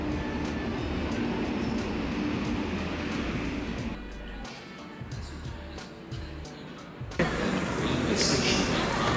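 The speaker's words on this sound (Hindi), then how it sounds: "और फिर 20 मिनट वेट करने के बाद हमारी ट्रेन आ गई थी।" Passenger train arriving at a station on an Agra to Raipur journey, a loud continuous rumble and rattle of rail cars rolling in that dips briefly and then rises again, close by, with people talking faintly underneath.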